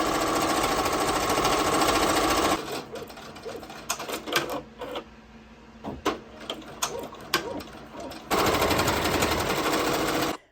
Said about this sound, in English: you guys actually want to hear this beautiful, pretty Ricky RICOMA machine